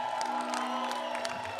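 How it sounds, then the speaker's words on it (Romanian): Festival crowd at a live concert at Electric Nights Festival, Summer Camp Brezoi, cheering and whooping with scattered applause, a continuous dense roar of many voices. "Aplauze pentru ei, vă rog frumos."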